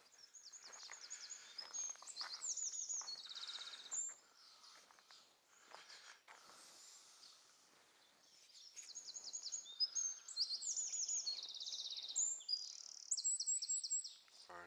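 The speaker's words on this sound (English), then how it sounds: "Birds everywhere." Small birds sing in an Irish cottage garden, repeated bright trilling phrases and chirps from several directions, fairly close, with soft rustling steps in between and quiet pauses.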